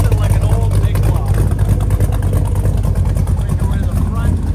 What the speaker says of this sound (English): Hear that exhaust idle there? Wow, nothing like an old big block.